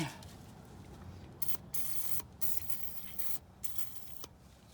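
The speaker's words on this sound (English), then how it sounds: "give her some spritz in there" Short bursts of penetrating oil are sprayed into a rusty part on a 1990 Jeep YJ. Several quick, faint hissing spritzes are separated by brief pauses.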